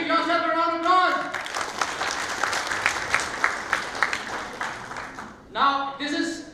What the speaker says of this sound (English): Now give yourself a round of applause